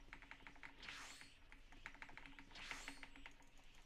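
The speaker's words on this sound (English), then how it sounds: "You guys can hear my keyboard" Computer keyboard being typed on, a quiet scatter of quick, uneven key clicks in bursts over a faint background hum.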